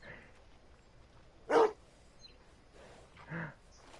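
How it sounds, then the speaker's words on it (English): A dog in the Red Dead Redemption 2 game world gives a single sharp bark, then a softer second bark or yip a moment later, over a quiet background. "Dog."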